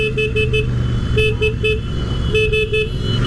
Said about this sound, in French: Allez, on va jouer du klaxon aussi.